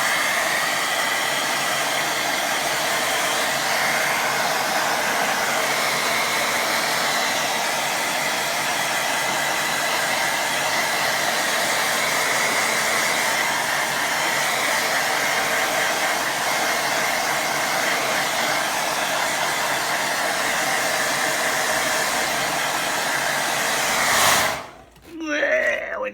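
A hair dryer blows steadily and loudly over a fast, loose watercolour painting, its even rushing whir running unbroken for about twenty-four seconds before cutting off with a brief clatter.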